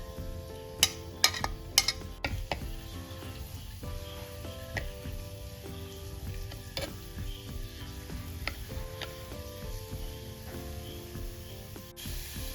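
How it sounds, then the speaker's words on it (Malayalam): Crushed ginger, garlic and green chilli go into hot oil for a Kerala karimeen fish curry, giving a soft, continuous sizzle with a few sharp clinks and stirring scrapes near the start. "എണ്ണ ചൂടായിട്ടുണ്ട് നമുക്ക് ചതച്ച് വെച്ച ഇഞ്ചി ഇടാം വെളുത്തുള്ളി ഇടാം പച്ചമുളക് ഇടാം"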